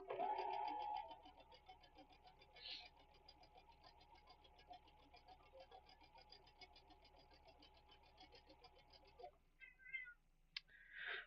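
A cat meows close by indoors, one long drawn-out call followed by quieter shorter mews, with no talk over it.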